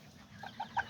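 An Azteca rooster and hen in a backyard coop make a few short, soft clucks in quick succession, fairly faint over a quiet background.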